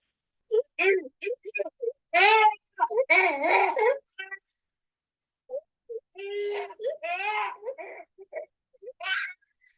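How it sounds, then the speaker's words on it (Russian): A recorded baby cries in close, intermittent bursts of wailing and sobbing, broken by short pauses and rising into strained, high cries. "Плач ребенка."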